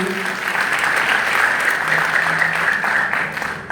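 Steady audience applause at an annual Mariammen prayer gathering of a temple society in Mount Edgecombe, Durban, a loud, continuous wash of many hands clapping that holds evenly throughout.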